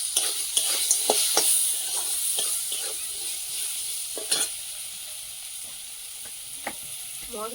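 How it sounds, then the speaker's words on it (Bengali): Spice masala with salt and turmeric frying in a pan, a steady close sizzle broken by repeated sharp scraping stirs of a spoon, alone with no voices. "মশলাটা কষানো হয়ে গেছে"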